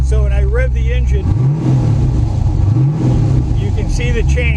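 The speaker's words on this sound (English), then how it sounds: "So when I rev the engine" A car engine on a ducted fan forced-air experiment setup revs up twice from idle, the rising and falling engine tone close and loud.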